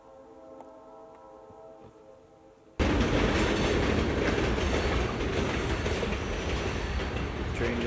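A train passes close by, starting abruptly as a loud, steady rumble of wheels and rattling cars that continues to the end after a quiet outdoor start.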